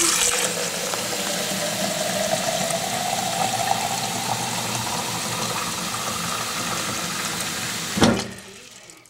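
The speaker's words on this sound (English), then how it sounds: "right now I'm going to be filling it up with hot water." Hot water pouring into a water tornado maker bottle, a continuous rushing gush with a rising tone as it fills, ending in a sharp knock before near quiet.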